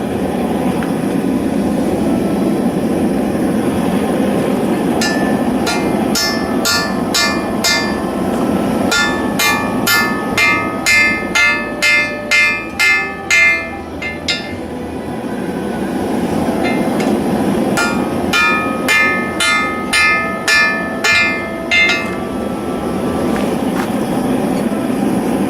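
Hot steel from a grounding rod is hammered to close a forged fold. Two runs of rapid, evenly spaced metallic blows ring out over a constant roaring background.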